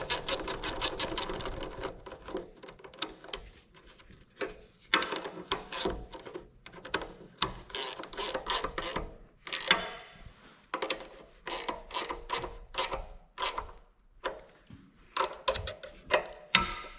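A ratchet wrench clicking in quick repeated bursts while nuts are tightened onto studs of a Honda clone 3-inch trash pump engine, close and crisp with short pauses between strokes.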